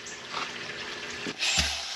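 Garden hose on a shower spray setting runs water into a pool sand filter, giving a steady hiss and splash with a brief gurgle near the middle and a louder, fuller rush of water toward the end.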